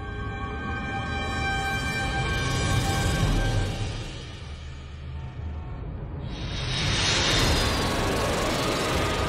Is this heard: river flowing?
no